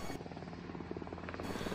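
A water-bombing helicopter flies over burning land, its rotor throbbing loud and steady throughout with a dense, rumbling drone.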